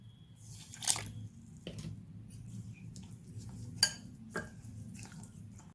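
Oats rava dosa batter is stirred in a bowl, with quiet wet squishing and soft scraping strokes and a few light clinks of a spoon against the bowl over a low background hum.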